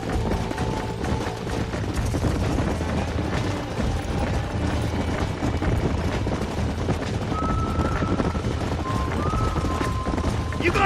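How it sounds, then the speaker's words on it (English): Horses gallop in Red Dead Redemption, a steady rapid clatter of hooves running close and loud under shouting voices, with game music and faint tonal cues. "There's the horses!"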